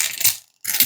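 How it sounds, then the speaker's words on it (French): Small copper euro coins clink and rattle as they are handled, two loud bursts of jingling metal separated by a short silence, close by and with no voices. "sachant que là, il y a beaucoup de pièces jaunes."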